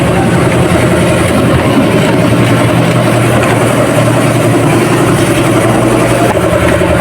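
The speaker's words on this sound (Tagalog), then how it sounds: "Pahangin na natin yung makina" A Mitsubishi L300 Euro 4 engine runs at a steady idle during maintenance, a continuous loud low rumble with a constant mechanical hum throughout and no talking.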